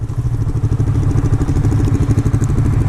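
Yamaha R3 motorcycle engine runs with a steady, throbbing rumble, close and loud with a fast pulsing rhythm, no talk.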